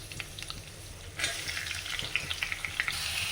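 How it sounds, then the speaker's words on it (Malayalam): Chopped onions frying in coconut oil after paneer was lifted out, a quieter hiss that swells into a loud bright sizzle as they hit the oil, with sharp spitting pops and crackles. "ആ വെളിച്ചെണ്ണയിലേക്ക് തന്നെ നമ്മൾ സവാള ചെറിയ പീസാക്കി അരിഞ്ഞത് ഇട്ട് കൊടുക്കാം."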